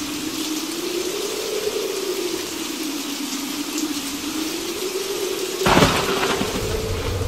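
Steady rain from a heavy storm in Guadalajara, Mexico, hisses continuously with a low wavering hum beneath it, and a brief louder burst of splashing near the end.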